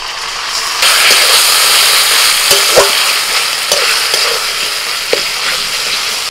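Ground flat-bean paste dropped onto fried onions and kalonji in a hot pan, hissing with a loud, steady sizzle close up while occasional spatula scrapes and taps cut through.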